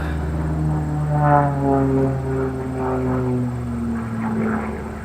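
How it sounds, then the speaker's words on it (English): Aerobatic propeller plane in a power loop during a primary/sportsman aerobatic competition, its engine droning steadily with pitch sweeping down and rising again as it climbs and turns, moderately near and continuous. "plane sounds beautiful. He's really flying it smooth."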